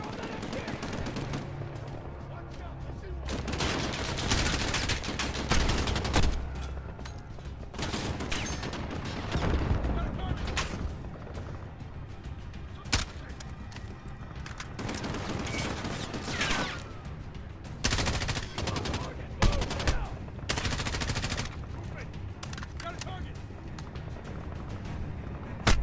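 Gunfire in the Modern Warfare campaign, bursts of rapid shots and sustained volleys over several stretches, loud and close, with a player talking over the action.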